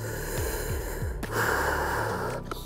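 A person sitting in a belly-breathing exercise draws slow, deep breaths that expand the abdomen. A few short snorting inhales come first, then longer airy breaths, all heard close and alone.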